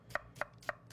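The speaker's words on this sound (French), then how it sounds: "Je tranche les oignons dans le sens du grain" A knife slicing onions with the grain on a cutting board, three crisp, evenly spaced chops close by and fairly quiet, no voices.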